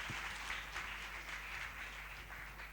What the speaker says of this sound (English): Please cheers them with big applaud.